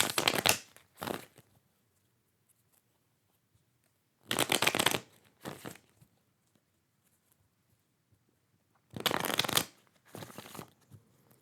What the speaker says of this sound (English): We're going to do 3 more shuffles, please.